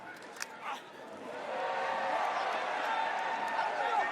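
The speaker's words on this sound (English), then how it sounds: "Crowd reacting to that play beautifully defensively by Weirman to get back possession" Crowd at a professional lacrosse game, Carolina Chaos versus Denver Outlaws, swelling into a broad sustained roar and cheer after a defensive play, heard from a distance under an announcer's commentary.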